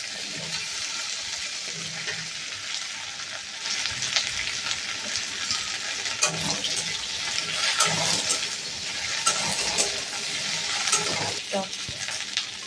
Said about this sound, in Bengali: তেলটা গরম হয়ে গেছে, এখন আমি এর মধ্যে রসুনটা ফোড়ন দিয়ে দিলাম, আর ঢেঁড়সটাও দিয়ে দিলাম